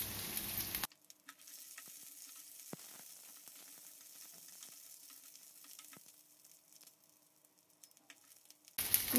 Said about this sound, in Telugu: ఈ కలర్ వచ్చేంత వరకు ఇలా వేగేంత వరకు వేయించాలి.